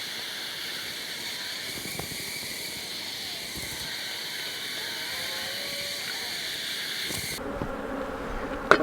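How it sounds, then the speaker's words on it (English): Honeybees buzzing around an open beehive during a beekeeping inspection, a steady, fairly soft drone from many bees with occasional individual bees passing close and a few handling knocks. "I'm going to get these bees out of the way."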